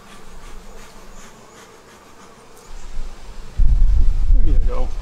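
Honeybees swarm and buzz around an opened beehive while being prepared for the fall nectar flow. A steady agitated hum is overtaken near the end by loud close buzzing and brushing noises.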